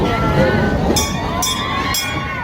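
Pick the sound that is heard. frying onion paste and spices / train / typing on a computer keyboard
train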